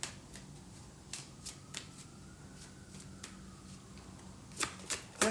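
Tarot cards being shuffled and pulled, a series of quick, crisp card flicks and riffles, fairly soft and close, with a busier flurry of snaps near the end and no voices.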